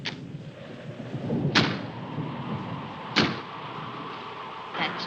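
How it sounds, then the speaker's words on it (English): A door bangs in the wind in an old house, three or four sharp, fairly distant thumps spaced evenly over a low, rushing background. "That's just the wind banging a door."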